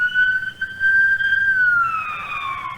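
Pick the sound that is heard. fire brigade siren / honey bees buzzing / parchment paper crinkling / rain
fire brigade siren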